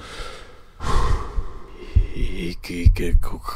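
Two men breathe hard and pant in a tense horror audio drama, with heavy gasping breaths and snorts rising and falling up close, while faint voices come in near the end.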